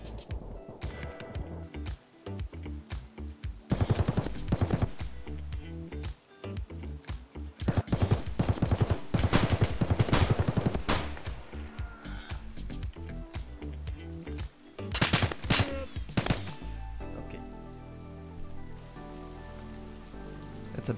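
Heavy automatic gunfire from a big gun in Escape from Tarkov, loud repeated bursts and rattling volleys with short gaps, running for most of the stretch before fading into quieter ambience.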